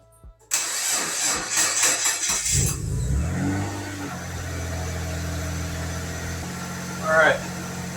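A 1997 Mitsubishi Galant VR4 fitted with a GFB hybrid valve cranks for a couple of seconds, catches and settles into a rough idle, then takes a short rev near the end.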